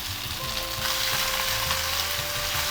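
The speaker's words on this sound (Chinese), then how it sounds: "葱花、蒜泥儿、姜泥儿翻炒" Chopped scallion, minced garlic and ginger are stir-fried in a hot oiled pan. A dense, close sizzle runs throughout, with soft stirring scrapes and a low background hum.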